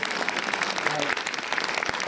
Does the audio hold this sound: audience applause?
yes